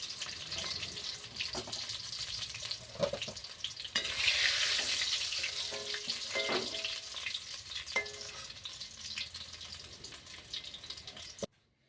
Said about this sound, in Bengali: আলুগুলো আমার ভাজা হয়ে গেছে, আমি